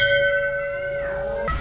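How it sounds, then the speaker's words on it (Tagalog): A small altar bell at a temple in India rings with a sustained metallic tone that slowly decays, then is cut off by a sudden muffled bump near the end. "What is the meaning of the bell?"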